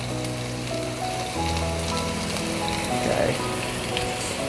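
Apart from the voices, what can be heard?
kofta chicken frying in a pan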